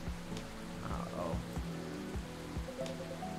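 Rain falling outside in the video game Coffee Talk, a soft, steady patter of drops with gentle water texture behind quiet background music.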